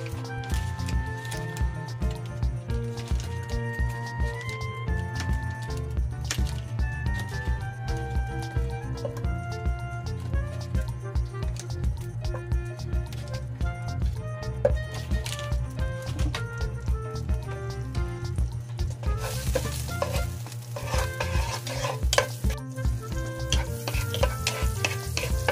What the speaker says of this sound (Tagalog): Tapos maglagay tayo ng butter.